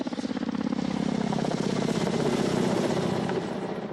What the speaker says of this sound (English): The Black Shark is unique among attack helicopters in several respects.